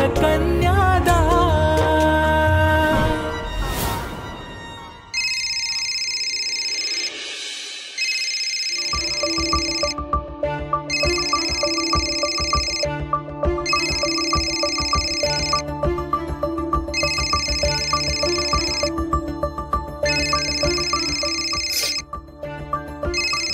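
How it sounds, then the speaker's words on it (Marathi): A phone rings with a melodic electronic ringtone, first a loud musical passage, then a repeating tonal pattern that sounds in regular bursts with short gaps, close and clear throughout. "वेदाचा फोन आहे."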